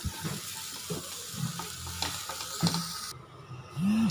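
Chana masala spices frying in a pan, a soft continuous sizzle with occasional stirring scrapes, close and moderately loud, with no speech.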